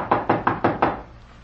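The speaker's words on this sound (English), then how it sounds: "let's try knocking." Five quick, evenly spaced knocks land on a locked wooden door in an old mansion, crisp and close, in a staged old-time radio mystery, then fade to a quiet room tone.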